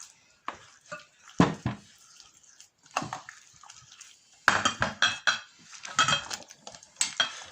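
Whisking cracked eggs in a bowl for a chocolate fondant, with bursts of quick clinking and scraping of a utensil against the bowl, separated by short pauses, close and fairly clear.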